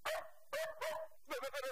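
A dog barks several times in quick, close succession, with short sharp barks separated by brief pauses and a final cluster of rapid yips, loud and near with no other sound.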